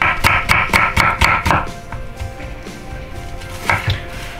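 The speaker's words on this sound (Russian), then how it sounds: "режем лук на вот такие вот полуколечки вот такой толщины" A knife slices an onion into half rings on a cutting board, giving a quick run of about seven sharp, evenly spaced knocks, then a pause before a couple more strikes near the end.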